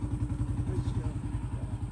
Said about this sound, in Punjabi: ਵੀਰ ਭਰਾ ਪਿੱਛੇ ਆਉਂਦੇ ਆ ਉਹ ਮੋਟਰਸਾਈਕਲ ਦੀਆਂ ਡਾਰਾਂ ਉਹ ਵੇਖੋ ਜੀ